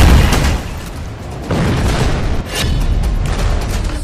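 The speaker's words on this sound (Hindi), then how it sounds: "एक मिसाइल धमाका," A missile strike explosion produces a loud, sustained booming roar with rolling low rumble and bursts of debris-like noise throughout, with no clear speech.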